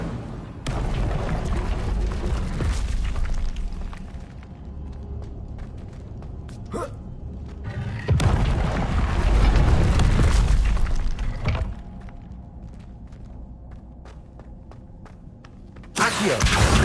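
Incendio fire spells cast in the Hogwarts Legacy video game: several loud whooshing, booming bursts of flame, with a sharp one near the start, a longer roaring stretch midway and another burst at the end, over steady ambient game sound.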